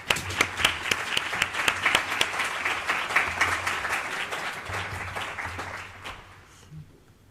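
Audience at a European Union round-table event in Almería applauding the panel speakers, dense clapping with sharp individual claps up front, steady and fairly close, fading out over the final seconds.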